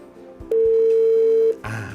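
A steady ringback tone sounds for about a second after dialing out from a Panasonic KX-HTS824 hybrid IP PBX phone system, loud and continuous, followed by a brief click and low hum.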